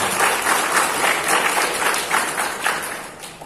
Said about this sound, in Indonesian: Tepuk tangan untuk SMP Negeri 2 Gempol